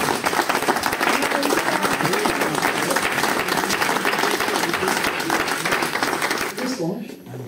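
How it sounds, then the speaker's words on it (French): A crowd cheers and claps loudly and continuously at a wake-up gathering on a town square in Saumur, the noise dropping off abruptly near the end. "Est-ce qu'on peut vraiment acclamer?"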